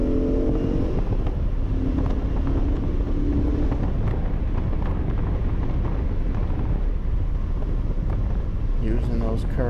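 Jaguar XJ6C or XJS lapping Lime Rock race track, a steady loud engine drone mixed with heavy wind buffeting and road rumble throughout, a few brief rising tonal revs early on, with a voice speaking over it.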